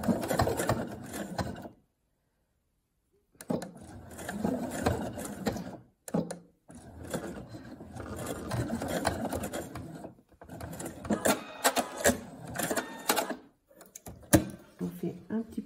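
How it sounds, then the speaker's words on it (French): A domestic sewing machine stitches a few back-and-forth stitches through fabric to lock a seam on a homemade face mask, running in several short bursts separated by pauses, with someone talking over and between the runs. "Nous allons piquer sur quelques points aller-retour pour faire un petit point d'arrêt"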